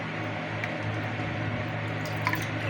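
Vegetables being washed in water for tilapia sinigang with guava, a steady soft sloshing and trickling with a few faint drips, close and continuous with no talk.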